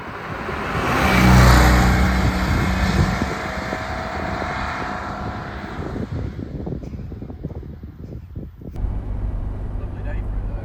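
A classic 1970s Fiat 500 driving along, its small engine droning and swelling loudly with wind rush, then settling to a lower steady hum; people talk over it at points.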